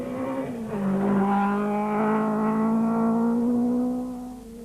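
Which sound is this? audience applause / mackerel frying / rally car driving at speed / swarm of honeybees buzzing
rally car driving at speed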